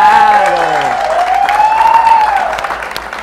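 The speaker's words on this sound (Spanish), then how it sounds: "aplausos por ser una rolo de invitada hoy" A studio audience claps steadily through the whole stretch on a talk show, with a voice singing or calling out over the applause.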